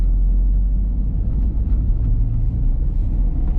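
A Fiat Palio Fire with a 1.0 engine drives through city streets in fifth gear, giving a low, steady engine rumble heard from inside the car with no talking.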